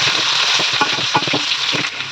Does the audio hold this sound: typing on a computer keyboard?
no